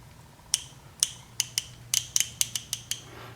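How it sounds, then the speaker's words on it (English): Slow, separate clicks from a Snap-on ratchet, about a dozen sharp metallic ticks spaced unevenly over a few seconds, close but fairly quiet, with no voice. "now listen to the Snap-on."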